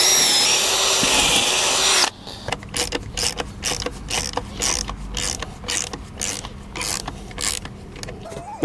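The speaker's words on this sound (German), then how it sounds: "Hierfür bohre ich das Ganze mit einem Holzbohrer vor" A power drill bores pilot holes in wood with a wood drill bit while building a wooden bike carport: a steady loud whir for two seconds, then a series of rhythmic ratcheting clicks and tool sounds.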